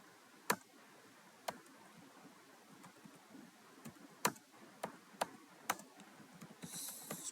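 Keystrokes on a computer keyboard, sparse and uneven, with several sharp isolated clicks over a quiet room background and no talk.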